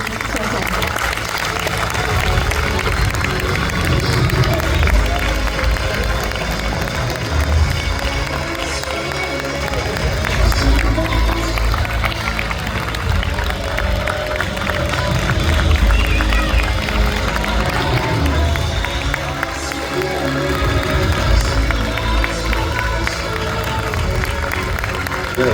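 A cinema audience at a special IMAX screening of Chien 51 applauds and cheers director Cédric Jimenez and actors Adèle Exarchopoulos and Gilles Lellouche, a loud, dense, sustained roar of clapping and shouts with voices mixed in.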